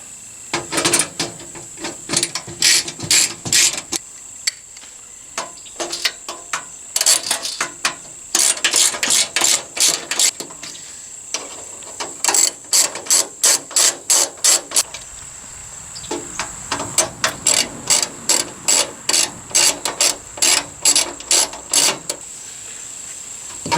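A hand ratchet tightens bolts on Rough Country tube fender flares on a Jeep Wrangler, rapid bursts of sharp clicking in repeated runs separated by short pauses, close to the microphone.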